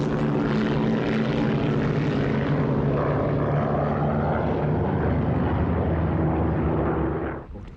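A P-51 Mustang fighter's propeller engine roars with a steady, loud drone and strong low harmonics, passing close and slowly shifting in pitch before cutting off sharply at the end.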